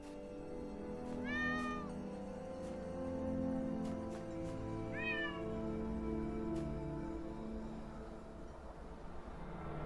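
A cat in the video game Talos Principle Reawakened meows twice, a few seconds apart, over a steady low droning background hum, with no talking.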